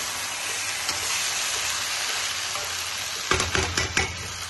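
Chicken frying in a covered pan over very low heat gives a steady soft sizzle, with a few louder stirring clatters near the end and no talk.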